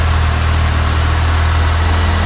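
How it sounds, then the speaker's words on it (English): A car engine idles steadily up close, a loud, even low rumble with a constant vibrating hum and no other sounds. "Idling pretty good."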